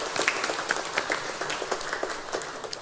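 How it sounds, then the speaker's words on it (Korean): A Korean church congregation's applause during Sunday worship, a brisk, fairly faint patter of many hands clapping steadily. "여러분의 박수 소리가 아주 힘차시네요"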